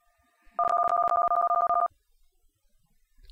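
A telephone rings in the video game Steer Madness, a close, loud electronic trill of rapid pulsing bursts lasting over a second, then silence with faint background noise.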